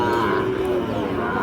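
A Sahiwal bull calf about six to seven months old lets out a sustained low moo at a busy cattle market, with crowd chatter and bargaining underneath.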